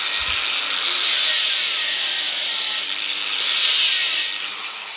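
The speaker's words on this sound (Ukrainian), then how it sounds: "Бачите, я всією силою тисну цю болгарку і вона не зупинилася." A Vitals 125 angle grinder runs at its lowest speed setting while pressed hard into work, giving a steady, loud, high-pitched whine and grinding rasp that holds for about five seconds with no talking.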